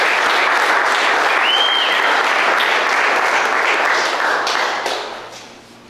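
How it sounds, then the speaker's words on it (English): A round of audience applause, dense and even clapping from a crowd that holds steady and then fades out near the end. "That's a round of applause right there."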